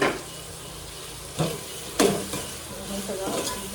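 Tomatoes cooking in a pan for pav bhaji, a low sizzle broken by a few distinct scraping stirs and utensil knocks against the pan, close and moderately loud.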